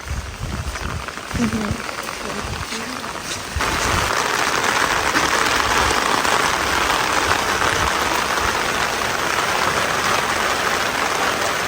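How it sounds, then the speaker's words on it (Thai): Steady rain falls, its hiss swelling sharply after a few seconds into a loud, continuous wash of noise, with faint voices briefly audible near the start. "เสียงฝน เสียงฝน"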